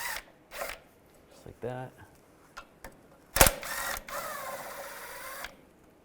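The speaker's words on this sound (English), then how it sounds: "There's a 10mm bolt here, and there's another 10mm bolt over here. Take those off with a 10mm socket." A 10mm socket ratchet loosens the two 10mm bolts holding the oil pickup on a 2002-2009 Chevy Trailblazer engine: a short burst of rapid ratchet clicks among scattered metal taps, a sharp clack, then a longer rasping noise, with a brief voice.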